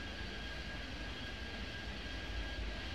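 Aircraft taxiing at an airport in the video game Airport Madness 3D, a faint, steady engine hum and whine that stays even and distant throughout.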